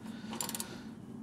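A 3/4 socket wrench tightens the sump drain bolt on an MG Midget during an oil change, giving a short burst of close, faint ratcheting clicks.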